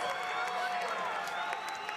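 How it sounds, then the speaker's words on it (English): A college basketball crowd at a Southern Utah home game roars and cheers after a series of dunks, a steady broad wash of voices and applause throughout. "A flurry of dunks excites the crowd, and they are feeling it."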